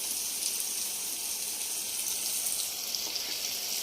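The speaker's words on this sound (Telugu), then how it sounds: "ఈ ఎగ్స్ ఉన్నాయి కదా, కొంచెం ఆయిల్ను కొంచెం పసుపు వేసి వేయించుకున్నాను." Boiled eggs fry in oil with turmeric, giving a steady, close sizzle that runs without a break and with no voices over it.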